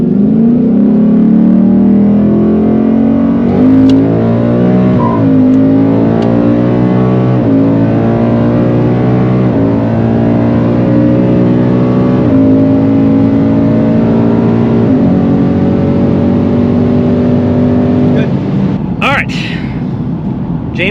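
Ford Mustang running on E85 pulls hard through a 60-130 mph pass, a loud close engine note climbing steadily in pitch for nearly twenty seconds with brief shift breaks, people talking over it.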